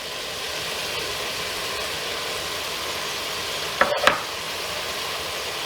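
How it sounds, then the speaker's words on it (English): Ground beef browns in a pan with a steady, even sizzle that runs throughout, and a brief clatter of stirring lands near the end. "So as our beef is browning"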